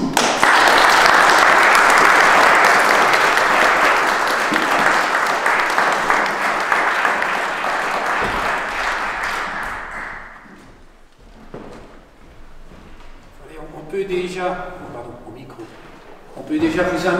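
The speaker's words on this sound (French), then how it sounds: "ce qui mérite un applaudissement." Congregation applauding inside a church during a Sunday service, a loud, dense burst of clapping that fills the space and fades out after about ten seconds, followed by a few soft thumps and a voice speaking.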